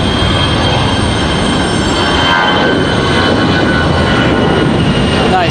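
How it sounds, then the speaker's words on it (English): A Delta Airbus A319 jet departs from Raleigh-Durham airport, producing a loud, steady engine roar that fills the whole stretch at close range without easing off. "Nice sounding departure here for Delta. A319 getting out of here"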